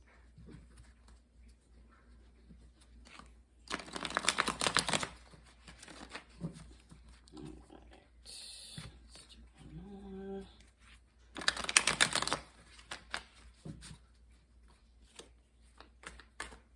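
Tarot cards being shuffled by hand, with two bursts of riffling and bridging around the middle and near the end, between softer handling noises at close range and no talk.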